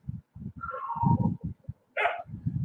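Dogs bark in a residential neighborhood, a cluster of yips, whines and barks, fairly close and loud, in uneven bursts, with no talking.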